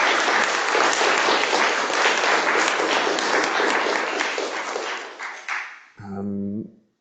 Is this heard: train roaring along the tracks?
no